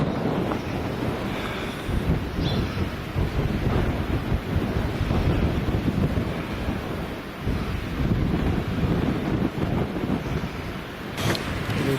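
Sea waves surge and churn beneath a seafront car park at Watchet, below full tide. The low, rumbling wash is continuous and fairly loud, with gusting wind buffeting the microphone and no voices.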